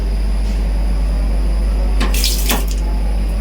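Water runs steadily from a tap over a constant low rumble, with a couple of brief splashy bursts midway.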